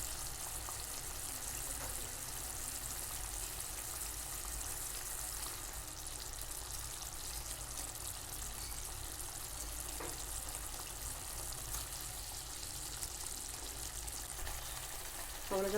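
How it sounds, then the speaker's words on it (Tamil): Mughlai-style egg curry gravy simmers in a pan with a faint, continuous bubbling and soft sizzle that holds steady and quiet throughout, close by and with no voices over it. "இது ஒரு 2 மினிட்ஸ் நல்லா கொதிக்கட்டும்."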